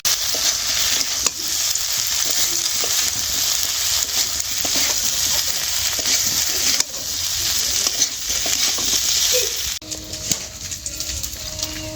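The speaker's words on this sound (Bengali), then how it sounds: "এই যে ভেজে রাখা ফুলকপিগুলো দিয়ে দেবো।" Fried cauliflower pieces tossed into a hot pan of honey garlic sauce and stirred, giving a steady close sizzle with scraping and clinks of the spatula, without talk.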